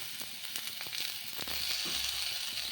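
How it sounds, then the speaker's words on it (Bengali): Potatoes fry in hot oil with a close, steady sizzle and scattered crackling pops, which swell slightly louder partway through. "তেলে ভেজে নিচ্ছি"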